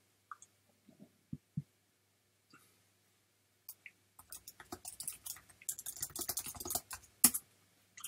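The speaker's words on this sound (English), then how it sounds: "Sorry for my typing here, I'm just typing to players." Clicky computer keyboard typing, a few scattered keystrokes at first, then a quick dense burst of rapid tapping, close and fairly quiet with no talking.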